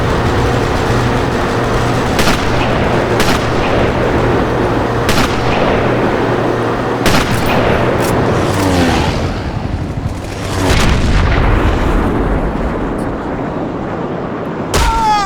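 Repeated sharp gunshots ring out in the World War II shooter Sniper Elite, loud and close, scattered irregularly across a steady background of game ambience and music.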